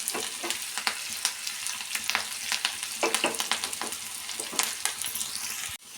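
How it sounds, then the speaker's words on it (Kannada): Chopped onion and curry leaves crackle and spit loudly in a hot pan of oil for a sambar tempering. A spoon stirs through them with scraping strokes and quick pops, and no one talks. "ಈಗ ಸ್ವಲ್ಪ ಕರಿಬೇವಿನ ಸೊಪ್ಪು ಸೇರಿಸಿ ಚೆನ್ನಾಗಿ ಫ್ರೈ ಮಾಡ್ಕೊಳ್ಳೋಣ"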